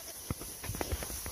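Goats walking through brush toward the listener, their hooves making a sparse, irregular patter of soft close steps over a low background hiss, with no talk during the steps.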